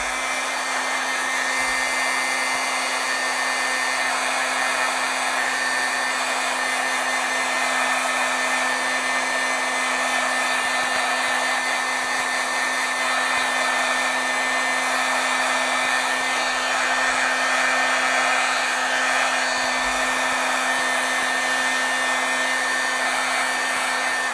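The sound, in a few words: heat tool heat-setting paint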